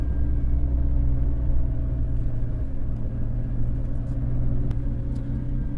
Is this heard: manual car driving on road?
yes